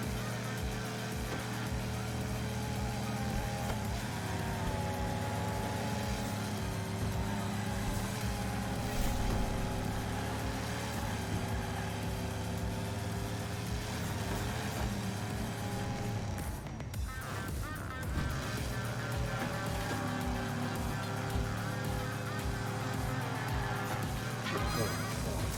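Racing cars in the Hot Wheels Unleashed video game, with a dense, continuous roar of engines and music-like tones that stays loud and steady throughout.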